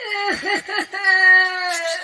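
A woman crying in a high, wavering voice, sobbing with pitch swoops at first and then a sustained, tremulous wail; close and fairly loud.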